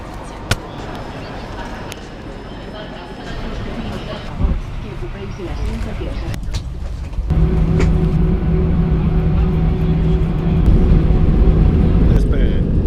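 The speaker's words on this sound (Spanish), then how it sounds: "Despegue." Airliner taking off on a flight from Alicante to Barcelona, a rising cabin roar that swells and holds loud and steady through the later part as engines reach full thrust.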